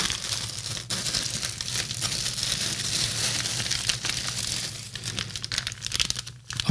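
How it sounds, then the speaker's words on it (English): Packaging is unwrapped close up with loud, continuous crinkling and tearing of plastic and paper, as merchandise including dog tags is unpacked. "Sorry for all the rustling."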